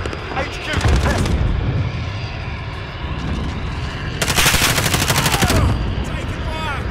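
Video game gunfire in Call of Duty: Modern Warfare, with rapid automatic bursts and heavier booming shots in two dense volleys over a noisy battle background, with voices in the mix.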